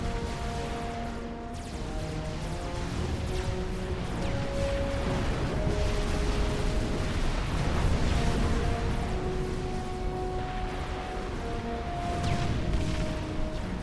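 Artillery fire and explosions in the strategy game Wars of Glory rumble as a continuous dense barrage of booms and crashes, moderately loud, layered over game music tones.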